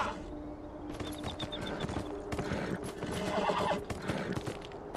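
A horse neighs and whinnies while its hooves clip-clop at a gallop in the video game Beyond: Two Souls, loud and close with a fast, uneven rhythm of hoofbeats and no speech.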